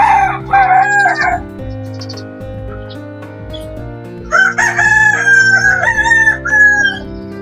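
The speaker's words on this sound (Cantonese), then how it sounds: "好嘈啊，好雞！" Noisy free-range chickens in a farmyard, with clucking at the start, then a rooster crowing loudly and close by in a long call, one rooster call answering another.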